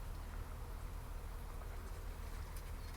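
Bees buzzing around trees at a tree farm, a constant, even drone that fills the air without pause, fairly faint and steady outdoors.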